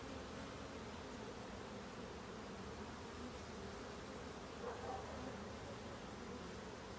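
Honeybees buzz steadily in a small hive during a spring inspection, a continuous low droning hum that fills the whole stretch, with a brief slight swell near the end.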